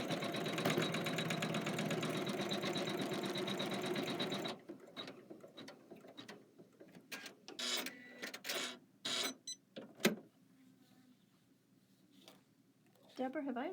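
An embroidery machine stitches a fabric placement line with a loud, fast mechanical whir and chatter for about four seconds, then stops; people talk close by afterward over quieter room sound.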